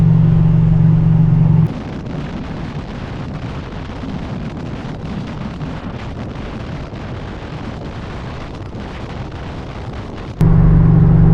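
Steady engine drone with road and wind roar inside a moving 1967 Dodge Charger on the interstate, loud and continuous, with a lower rumble at the start and end.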